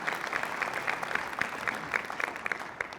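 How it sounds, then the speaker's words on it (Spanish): A church congregation applauds during a sermon, a steady bed of many hands clapping with sharper individual claps popping out, moderately loud and continuous for the whole stretch. "Un aplauso a Dios por ello."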